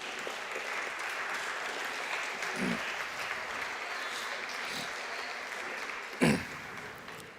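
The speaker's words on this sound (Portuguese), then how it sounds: "Vamos aplaudir o Senhor, igreja." A church congregation applauds in a steady, sustained wash of clapping that holds evenly for several seconds, with a couple of brief louder knocks or thumps rising above it.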